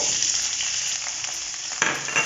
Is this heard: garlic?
yes